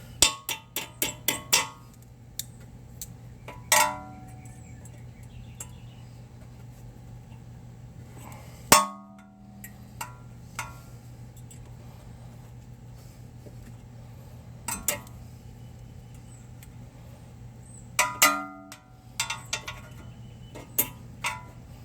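Needle nose pliers bend a cotter pin around a tie rod nut on a 2006-2011 Hyundai Accent, giving sparse sharp metallic clicks and small clusters of taps over a quiet steady hum.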